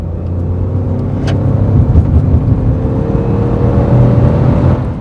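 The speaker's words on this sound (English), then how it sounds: "something about the way this thing sounds does sound characteristically three-cylindered." Peugeot 2008 with a 1.2 turbo three-cylinder engine pulling under load, a loud steady in-cabin engine drone with road noise that swells slightly as it accelerates, with one brief tick partway through.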